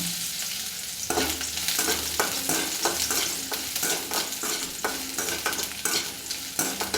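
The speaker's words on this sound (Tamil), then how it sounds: "அதை அப்படியே நல்லா எண்ணெயில் வறுத்துக்கலாம்" Small pieces of bitter gourd fry in oil, giving a loud, close sizzle with scraping and clattering from stirring in the pan throughout.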